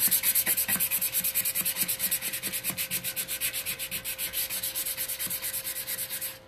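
Painted wooden furniture being sanded by hand, a steady rhythmic scrubbing of back-and-forth strokes, close and continuous throughout with no talking.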